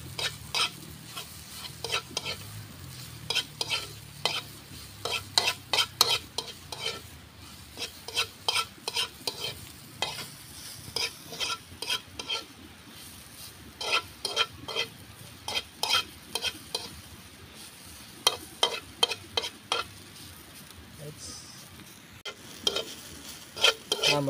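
Rhythmic utensil scraping and stirring of lomot seaweed frying in a pan, with repeated metallic strokes over a steady sizzle, close and clear without talk.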